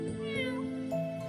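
A fluffy cat gives a single drawn-out meow with a rising then falling tone, close and fairly clear against a quiet background.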